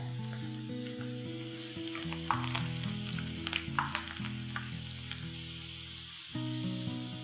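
Chana dal (split chickpeas) frying in oil on a lowered flame, a continuous close sizzle with scattered crackles and pops over a low steady hum.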